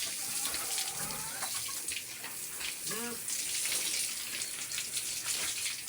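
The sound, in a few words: water hosed over a pig while bathing it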